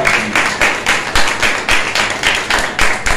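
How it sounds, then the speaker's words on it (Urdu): A church congregation at a Friday healing meeting claps together in loud, rhythmic bursts, several pulses per second, close and sustained with no talk over it. "زوردار تالیاں لگائیں خدا کے لیے۔"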